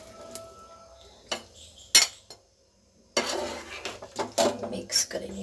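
Tutti frutti pieces being mixed into hot sugar syrup in a pan off the heat, heard as a spoon clattering and scraping against metal in irregular bursts, one brief gap of near silence, close and fairly loud.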